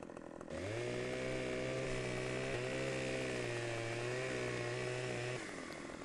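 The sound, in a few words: chainsaw cutting in the video game Farming Simulator 15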